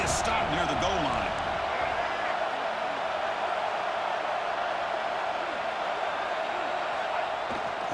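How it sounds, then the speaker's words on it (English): A stadium crowd roars during a football goal-line stand: a dense, constant wash of noise from a large audience, near and loud throughout, with a brief voice audible at the start. "the crowd really making some noise now, trying to help out this defense to get this stop near the goal line"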